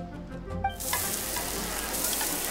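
Chiko fish grilling in the Genshin Impact video game, a steady bright sizzle and crackle of frying that starts abruptly after a short clinking moment and continues loudly to the end.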